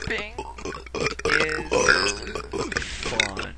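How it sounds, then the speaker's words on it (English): Loud, drawn-out burps come one after another, close to the microphone, stretched and mixed with voiced, speech-like sounds from the same person. "I love burping."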